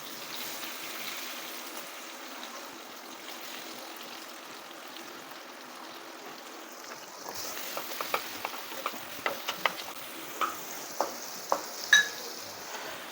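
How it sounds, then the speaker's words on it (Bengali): Onions dropped into hot oil start a soft, quiet sizzle that builds into brighter crackling, with a run of sharp clicks and taps near the end as they are stirred in the pan for prawn pulao. "এবারে এই তেলের মধ্যে আমি পেঁয়াজগুলো ছেড়ে দিচ্ছি।"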